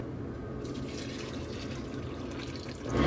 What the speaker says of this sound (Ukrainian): Щоб процідити ікру, я підготувала дуршлаг і марлю згорнуту в декілька шарів. І проціджую.